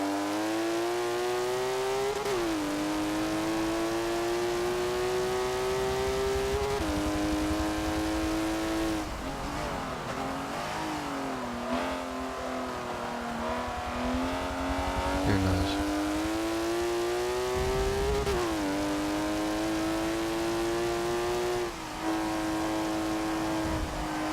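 Race car engine in Forza Motorsport 7 screaming at high revs, the pitch repeatedly climbing then dropping sharply with each downshift and shift, loud and continuous throughout.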